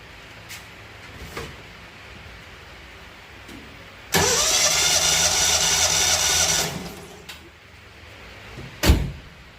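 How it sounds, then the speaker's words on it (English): A car engine cranks over steadily for about two and a half seconds during a compression test on a worn engine that smokes and leaks oil. Quiet workshop noise and a few clunks come before it, and a sharp knock follows. "I will crank this over"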